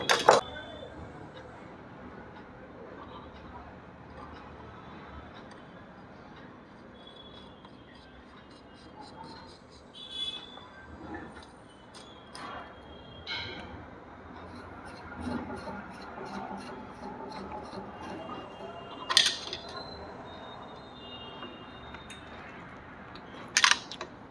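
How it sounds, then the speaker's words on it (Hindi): Sporadic close metallic clicks and clinks as a screw is tightened on an overlock sewing machine, with a few sharper taps standing out over a quiet, steady room background. "अब ये पेंच जो है उसे टाइट कर देंगे।"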